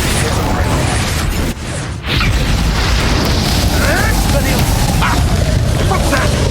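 Incendio fire spell blasting in Hogwarts Legacy, a dense, loud burst of roaring flame and booming impact noise that fills the clip, with a brief dip before the blast swells again, amid ongoing game combat sounds.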